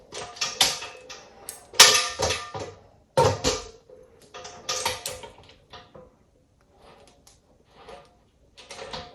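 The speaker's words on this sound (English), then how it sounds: "now I'm going to put this lid back on" A lid being set back onto a container and fitted into place, with a series of loud clattering knocks and scrapes in the first few seconds, then quieter handling sounds trailing off.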